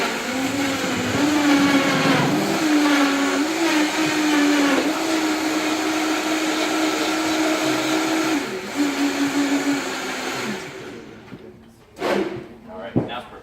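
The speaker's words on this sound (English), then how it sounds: "we're just going to blend this nice and smooth using the trusty Vitamix blender" A Vitamix blender blends fruit until smooth, its motor whining at a steady high pitch for about ten seconds before spinning down and stopping, with a few clunks after.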